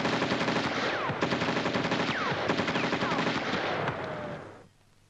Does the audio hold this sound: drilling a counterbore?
no